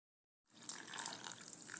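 Water runs steadily into a mixing bowl of semolina. The gentle, continuous trickle starts abruptly after a brief silence and stays fairly constant, close and alone.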